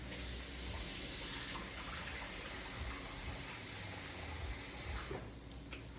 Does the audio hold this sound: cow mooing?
no